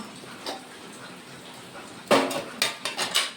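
Quiet room tone, then several sharp metallic clanks as a metal dish for serving rice is picked up and set around, close by.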